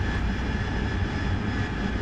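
Steady, continuous drone of a combat aircraft engine under throttle in the flight simulator DCS World, a dense even roar with no break across the whole stretch.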